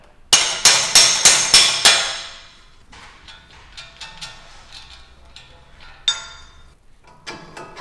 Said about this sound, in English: with a brass punch, hammer the CV through the unit hub